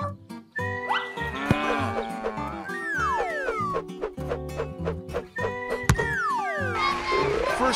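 Several drawn-out cow moos from a video game rise and fall over a busy electronic musical backdrop, loud and close throughout.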